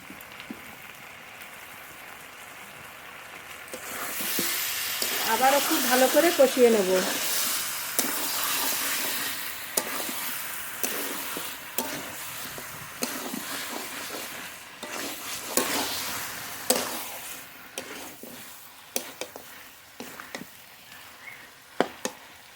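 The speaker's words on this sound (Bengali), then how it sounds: "খুব ভালো করে নেড়ে নেড়ে কষিয়ে নিতে হবে" Chicken being stirred and sautéed in a pan, with a soft sizzle that swells midway and repeated spatula scrapes and taps against the pan, all fairly quiet.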